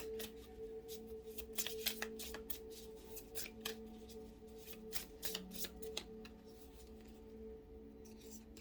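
A deck of oracle cards being shuffled, with quiet, fast riffling flicks repeating in bursts close up over a faint steady hum.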